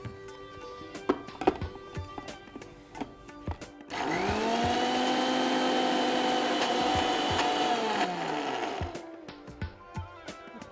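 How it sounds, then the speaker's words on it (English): A mixer grinder grinds soaked urad dal into a smooth paste, a steady loud whirring motor roar running for about five seconds before winding down, with scattered clicks and spoon taps before and after. "So let's grind urad dal."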